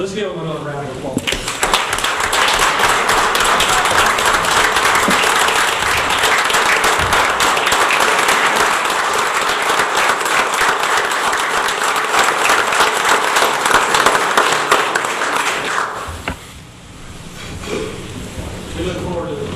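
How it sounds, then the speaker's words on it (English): A town council meeting audience bursts into loud, dense applause that holds for about fifteen seconds, then cuts off abruptly, leaving quieter room sounds and faint voices. "Let's give them another round of applause."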